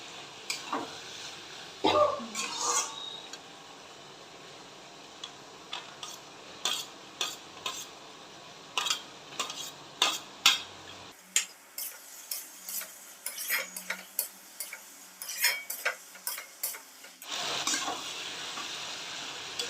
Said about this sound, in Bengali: এবার আমি এর মধ্যে চিংড়িটা অ্যাড করে দিচ্ছি